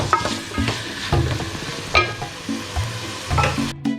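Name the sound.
ingredients frying in pan for prawn kabsa rice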